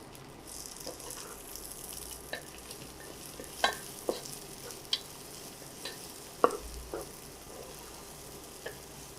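Onions frying in mustard oil in a pan, a steady soft sizzle running throughout, broken by a few sharp clicks and knocks of a spoon stirring.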